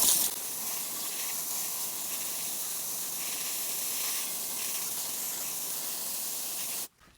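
A steady, close water spray hisses continuously while rinsing wheel cleaner off a car wheel on a hot day, holding an even level for several seconds before cutting off abruptly near the end.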